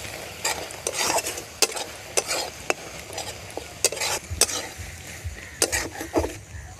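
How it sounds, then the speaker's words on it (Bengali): A spatula stirs a shrimp and Malabar spinach curry in a pan, with repeated sharp scrapes and clinks over a low sizzle, close and rhythmic. "ভালো করে মিশিয়ে দেব তরকারির সাথে।"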